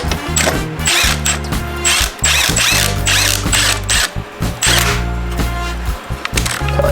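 A ratchet wrench tightens a bolt during teardown of a transmission from a 7.3 4x4 Ford Econoline in a garage, giving loud, close, rapid clicking and whirring in repeated bursts with no talking.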